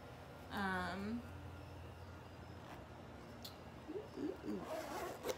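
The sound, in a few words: zipper on the back of a leather boot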